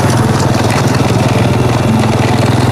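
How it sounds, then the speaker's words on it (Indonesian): A motorcycle engine labors uphill on a steep, rough road in a remote Javanese village, giving a steady, loud, throbbing drone with no pauses and no one talking. "Ini mesin motornya agak kuat karena jalannya agak naik ya."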